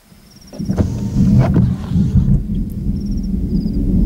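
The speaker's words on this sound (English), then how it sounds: "Still plenty of rumbles, that's good." Thunder rumbling across wetlands during a lightning storm, a deep low roll that swells after a quiet start and keeps growling steadily, with faint bird chirps high above.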